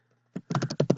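Fingers type on a computer keyboard in a quick burst of close, crisp clicks and clacks after a brief quiet moment, with no voice over them.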